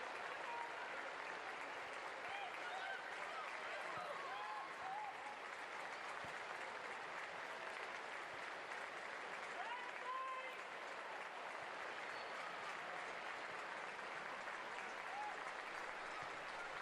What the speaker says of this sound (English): The applause you hear around Old Trafford on the 8th minute